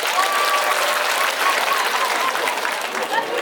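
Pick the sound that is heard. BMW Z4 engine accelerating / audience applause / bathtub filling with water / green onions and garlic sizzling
audience applause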